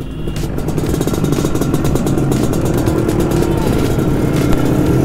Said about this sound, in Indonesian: jadi kita coba test drive nih motor nih boy